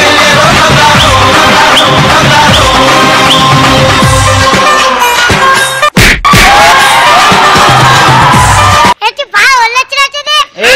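A television studio audience at a comedy show claps and cheers loudly and continuously to welcome a performer, with sharp hits and a brief break, before a voice cuts in near the end.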